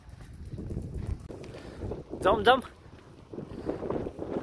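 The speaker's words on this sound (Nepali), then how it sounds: "यहाँ पनि हावा चलिरहेछ हौ" Wind gusts outdoors in a Romanian village, rumbling against the microphone while a person talks over it, with a brief sharper burst in the middle.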